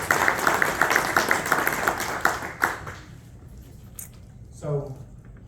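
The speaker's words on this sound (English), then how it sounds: "Give that a round of applause" An audience at a training event gives a short round of applause that fades out after a few seconds, leaving near quiet and a brief voice.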